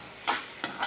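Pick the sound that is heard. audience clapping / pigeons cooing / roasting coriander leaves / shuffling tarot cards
roasting coriander leaves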